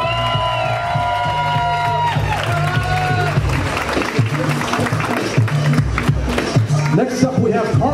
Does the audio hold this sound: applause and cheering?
yes